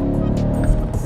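Chevrolet Corvette C8, a naturally aspirated mid-engine car of nearly 500 horsepower with a dual-clutch gearbox, accelerating in a brief, loud burst of engine drone heard up close.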